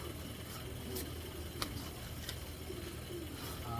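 A big racer pigeon gives soft, low cooing in a quiet loft, faint and intermittent among light background noise and a few ticking sounds.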